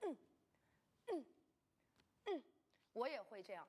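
A table tennis player makes forceful exhaled breaths and grunts while bracing the core during multi-ball drills and footwork, several short sharp bursts spaced about a second apart, then a longer ragged breath, close and fairly quiet.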